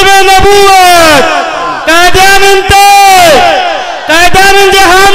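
A large crowd chants a religious slogan in unison in response to a leader, loud, rhythmic bursts of many voices shouting together, repeated three times with brief pauses between.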